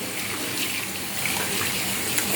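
Water runs steadily from a tap as hands are washed, a continuous broadband splash with faint trickling variations and no voices.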